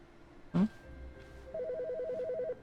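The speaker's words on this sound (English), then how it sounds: "Wait, I hear you ringing." A telephone rings in The Stanley Parable: Ultra Deluxe, a short burst of repeated electronic trills sounding steadily for about a second, with a brief thud just before and a low background hum.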